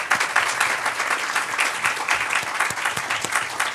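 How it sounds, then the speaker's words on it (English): An audience at a university Climate Week kickoff claps in sustained, dense applause, a steady crackle of many hands that holds without pause. "So can we give her a round of applause?"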